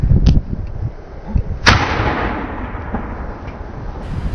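A homemade backyard cannon fires a projectile with one sharp, loud blast whose rumble trails off, preceded by a smaller pop or thump just before.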